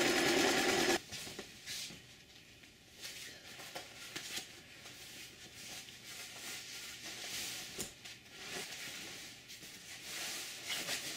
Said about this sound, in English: Top stitch, you want to try to keep your stitches a uniform distance